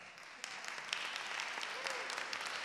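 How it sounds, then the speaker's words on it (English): A church congregation applauds during a Sunday sermon, a soft, distant wash of many hands clapping steadily for a few seconds. "can you applause for God?"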